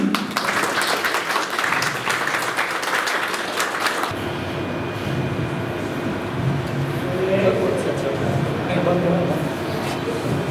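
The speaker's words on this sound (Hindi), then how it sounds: "तालियों से स्वागत करें।" An audience at a formal welcome event in Gorakhpur breaks into applause for the first few seconds, then the clapping stops abruptly and a quieter room hum with faint voices remains.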